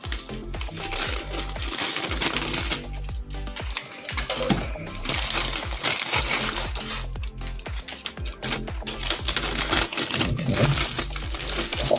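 Handmade heart-shaped bath bombs are slipped into plastic bags and sealed, giving close, continuous crinkling and rustling of plastic with scattered taps and handling noises, no talk.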